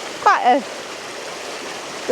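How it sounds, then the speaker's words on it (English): Rain-swollen river on the Pennine Way running rapidly, a steady broad rush of flowing water throughout, with a brief voice near the start. "the river's quite swollen, so it's running quite rapidly"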